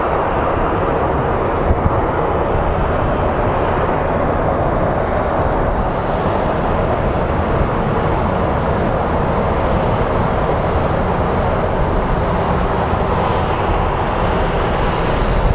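Airbus A330 airliner engines at Phoenix Sky Harbor airport give a continuous, loud, broadband roar that holds steady throughout, with no voices over it.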